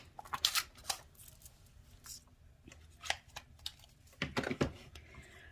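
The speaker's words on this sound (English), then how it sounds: "This is a piece of our shimmer in color vellum. We're just going to cut out the little wings here." A Ladybug Builder Punch cuts little wings from a sheet of shimmer vellum. Several crisp punching snips and paper rustles come close by and are spaced irregularly, with quiet handling between them and no speech.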